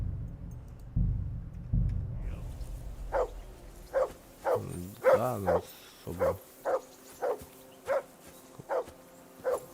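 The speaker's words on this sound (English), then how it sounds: "I assume you can hear that damn dog of yours barking." A dog barks repeatedly in a steady run of sharp, evenly spaced barks near the mic during a Kingdom Come Deliverance II stream, following a low rumble, with a brief spoken voice early on.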